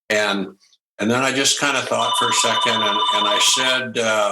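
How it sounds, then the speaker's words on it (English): A telephone rings with a steady electronic tone under someone speaking continuously. The ring runs behind his talk for a couple of seconds and stays fainter than his voice. "that's my phone. I'm hoping that my wife is going to pick it up upstairs."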